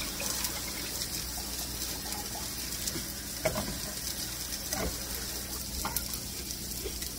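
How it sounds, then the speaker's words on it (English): Water pours into a pot of overnight-soaked Great Northern beans for a bean, ham and potato soup, a steady close hiss with a few soft splashes and clinks throughout. "And I'm going to add some water."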